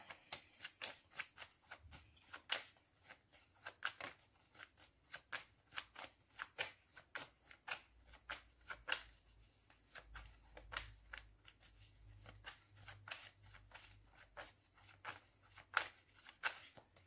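Tarot cards shuffled by hand in a quiet room, a steady run of soft, quick riffling and flicking sounds that continues evenly throughout.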